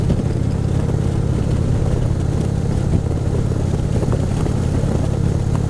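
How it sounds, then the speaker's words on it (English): Chopper motorcycle with a RevTech 100 cubic inch engine and loud Santee exhaust pipes, running steadily with a continuous deep rumbling drone, close and loud throughout. "You got a 100 cubic inch engine under you. Pipes are nice and loud, Santee pipes."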